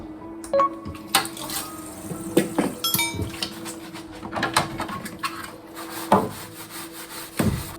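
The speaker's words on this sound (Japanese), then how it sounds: "冷蔵庫のドアポケットに入っていた棚は食器洗剤で洗っていきます。" Plastic refrigerator door-pocket shelves are scrubbed with dish detergent and rinsed under running water, with intermittent rubbing, splashing and light knocks against a sink.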